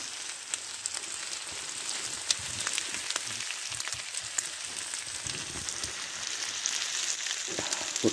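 Food crackling and sizzling in a hot pan on a wood-burning stove in a hot tent, a continuous close-up spitting hiss with sharp pops scattered throughout.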